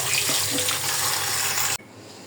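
Small pieces of goat meat are rinsed under running tap water, a close, steady gushing splash that stops abruptly just before the end.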